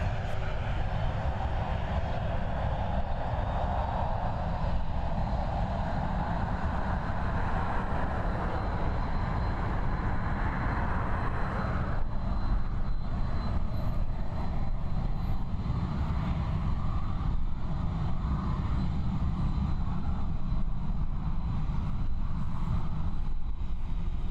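A Texel Air jet airplane roars steadily as it passes nearby at Christchurch airport, a loud sustained engine rumble and whine filling the air throughout, with no talking.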